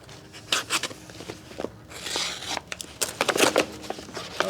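A knife cuts open a package while unboxing cycling gear, producing irregular close rustling, scraping and crinkling bursts with brief pauses between them and no voices.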